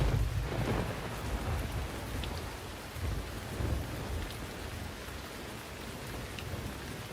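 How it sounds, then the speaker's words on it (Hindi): Steady heavy rain hisses on surfaces as a thunderstorm sets in, with low rumbles of thunder rolling underneath throughout a scene in a Hindi-dubbed film; no voices. "बारिश शुरू हो गई है"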